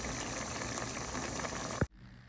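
Fish curry with potatoes and coriander leaves simmers as the gravy reduces, a dense bubbling hiss close by that cuts off abruptly near the end with a short knock.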